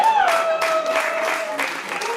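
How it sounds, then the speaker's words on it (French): Audience applause at a lecture on national cohesion in Switzerland, a continuous wash of clapping from a crowd heard under a voice speaking over it. "Ça, on applaudit, hein. On applaudit."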